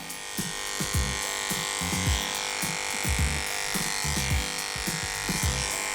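Electric clippers buzzing steadily while trimming a dog's coat, a constant motor hum with pulsing low thumps as the blade moves through the fur, close and continuous.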